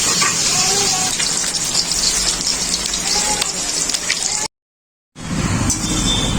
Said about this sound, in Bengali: লাল হয়ে এক পাশটা ভাজা হয়ে গেছে